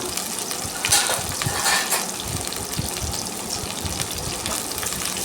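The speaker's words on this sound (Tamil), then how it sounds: "வெங்காயம் பச்சை மிளகா ஒரு பச்சை மிளகா தான் போட்டிருக்கேன். போட்டுட்டு நல்லா வதக்கி விட்டுக்கலாம்." Onion and a green chilli sautéing in a pan for a spicy dry fish masala, a steady close sizzle with scraping stir strokes, no talking.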